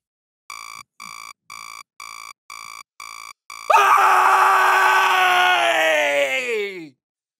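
A person's loud morning scream bursts out after a run of seven short, evenly spaced electronic beeps. It is a long, strained, wavering cry that slides downward in pitch before cutting off abruptly.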